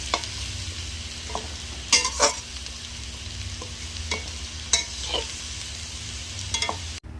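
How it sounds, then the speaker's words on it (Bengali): Turmeric-and-salt coated potatoes fry quietly in oil with a soft continuous sizzle, broken by several sharp stirring scrapes and clinks at intervals; no one speaks. "তেলে লবণ হলুদ মাখানো আলুগুলো ভেজে নেব।"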